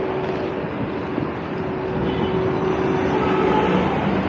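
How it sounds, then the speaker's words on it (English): A Metro Link bus passes along the street at Souq Haraj market in Doha, heard as a loud, steady engine and road rumble throughout with no talk. "It's a metro link bus."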